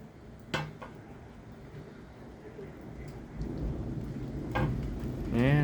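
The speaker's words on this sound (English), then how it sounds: "And here comes rain." A thunderstorm rolls over Sault Ste Marie, Ontario, in July, with rain beginning to fall: soft steady rainfall with low rumbles swelling toward the end, a sharp clatter near the start, and a voice briefly at the close.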